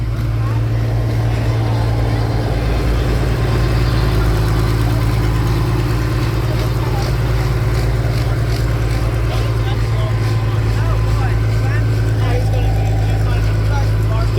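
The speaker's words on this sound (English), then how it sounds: "Looks like he's going to pull back the tractor." Tractor engine running steadily as it pulls in, a continuous loud low idle-like rumble throughout, heard close with no pauses.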